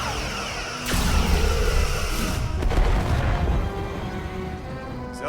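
Starship weapons fire in Star Trek Resurgence, a heavy booming discharge that swells into a sustained roaring barrage before fading slightly toward the end.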